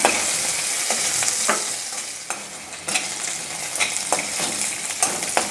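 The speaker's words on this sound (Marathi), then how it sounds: "बटाटा चांगला तुपावर फ्राय झालेला आहे" Potatoes fry in ghee for a fasting bhagar dish, a loud continuous sizzle broken by sharp scraping clicks of a stirring spoon against the pan, with no talk.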